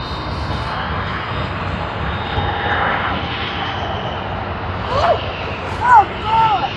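A jet airliner rumbles on the runway at Sydney Airport, a broad steady engine roar heard from a distance, with people chatting nearby and bird chirps near the end.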